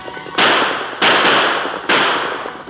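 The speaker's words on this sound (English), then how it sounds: "The Lone Ranger and Tonto maintained spaced gunfire as they reduced the lead of the outlaws." Gunfire sound effects in an old-time western radio drama: three sharp, loud shots at uneven spacing, each followed by a short decaying echo.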